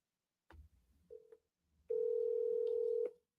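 A telephone dial tone sounds while a call is placed, with a short tone blip followed by a louder steady tone lasting about a second, clear and close.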